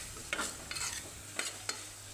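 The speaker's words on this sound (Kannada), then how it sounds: "ಸ್ಪೈಸಸ್ ಎಲ್ಲ ಹಾಕುವಾಗ ಉರಿನ ಲೋ ಫ್ಲೇಮಲ್ಲಿ ಇಟ್ಕೊಂಡ್ಬಿಟ್ಟು ಚೆನ್ನಾಗಿ ಹುರ್ಕೋಬೇಕು" Spices frying in oil over a low flame for a plain pulao, stirred with soft scraping strokes at a slow, irregular rhythm over a faint, constant sizzle, close and quiet.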